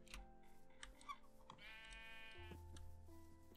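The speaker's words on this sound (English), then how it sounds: "Oh, there's some sheep." A Minecraft sheep bleats in the game, a short wavering call heard over a steady background of ambient game sounds and faint ticks, with no talking.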